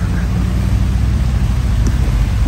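Heavy rain falls at a gallery in Mirpur, Azad Kashmir, as a steady, loud, dense hiss with no pauses and no voices.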